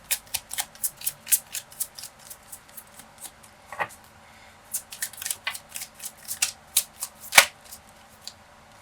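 Tarot cards being shuffled by hand, a series of crisp riffling bursts and soft slaps repeating irregularly, close and fairly quiet with no talk.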